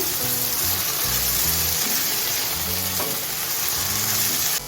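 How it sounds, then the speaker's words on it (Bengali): Prawns and radish frying in ghee with garam masala as everything is stirred together over high heat, a loud dense sizzle with spoon scrapes throughout, close and continuous, no voices. "এখন আমি সব কিছু ভালো করে মিশিয়ে নিচ্ছি"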